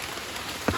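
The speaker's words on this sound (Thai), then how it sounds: "อ่าฝนก็เล่นดี" Steady rain patters on a surface as a constant hiss, with one louder drop or splash near the end.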